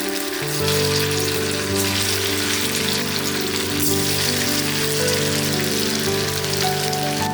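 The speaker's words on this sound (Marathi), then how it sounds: "आता आपलं तेल छान गरम झालेलं आहे आता आपण त्याच्यामध्ये भजी सोडणार आहोत" Sabudana bhaji fritters fry in hot oil, a dense continuous crackling sizzle like steady rain, loud and close throughout with no voices.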